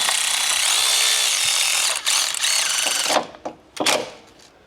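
A long electric ratchet spinning bolts tight while fastening parts during a CV axle repair, a loud continuous buzzing whir that breaks off, then gives several short sharp bursts and clicks before stopping.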